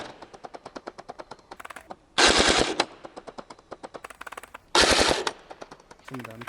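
A Novritsch SSR249 airsoft M249 light machine gun fires long rapid bursts of evenly spaced clicking shots, loud and close, with two brief louder roaring blasts between the bursts.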